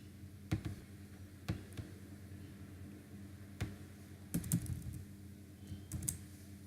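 Computer keyboard typing code in a quiet room, sparse key taps and short bursts of clicks with pauses between them, faint and close.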